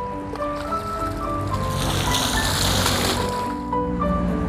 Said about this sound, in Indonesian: sampo lagi, siram dulu kepalanya.